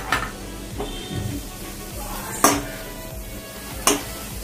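Veg cheese frankie filling with green coriander mixed in a pan, a steady soft sizzle under scraping strokes, with a few sharp spatula clacks against the metal at intervals, close and without talk.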